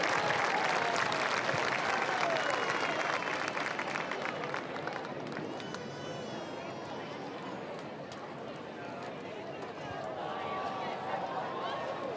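Stadium crowd applauds and cheers for the 2025 homecoming king, queen and coach at a high school football game between Boyne City and St. Francis, a broad, steady wash of clapping that eases slightly midway, with whistles and distant voices mixed in.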